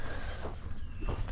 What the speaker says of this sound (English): let's head out to the donkeys